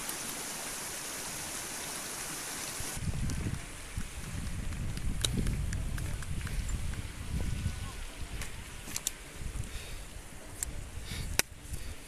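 A mountain stream of snowmelt water flows steadily along a summit trail in the Kaçkar mountains, a continuous rushing wash with low rumbling and occasional brief knocks.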